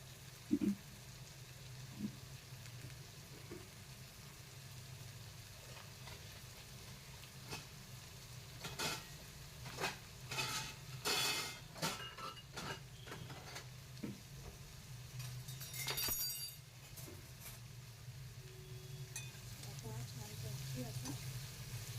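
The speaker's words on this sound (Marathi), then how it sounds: "तर आता आपण इथे कांदा घालतो आहोत." Chopped onion fries in a pan with dried small shrimp (jawla), Malvani style, giving a soft, steady sizzle. Scattered bursts of stirring and scraping rise over it from time to time.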